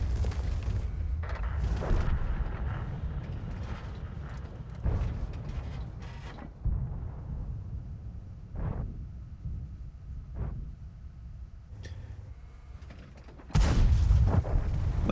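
A tank gun in World of Tanks fires several booming shots amid constant rumbling and clanking of a moving light tank, with loud blasts near the start and the end.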